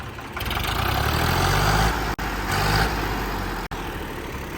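A Sonalika 745 tractor's diesel engine idles steadily up close, a low rumbling drone with a couple of brief dropouts.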